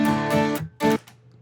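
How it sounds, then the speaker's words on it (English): A strummed guitar run through a stock compressor gives two short, dense, even-volume bursts of chords, close and loud, separated by a brief dip and ending in a low sustained tone. "Here's what happens when I put it through a compressor."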